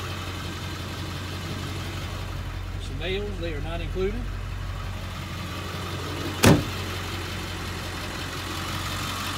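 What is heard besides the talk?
Ford F350 7.3 Power Stroke diesel engine idling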